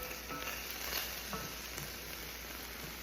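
Lean Jersey steer beef frying in a skillet with almost no fat, a faint, steady low sizzle under a quiet background hum, without speech.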